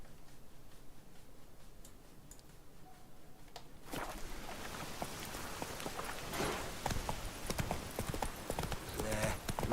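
Roach the horse's hooves clop in The Witcher 3 in Novigrad, faint at first and then a steady, growing run of hoofbeats, with a bit of background game sound.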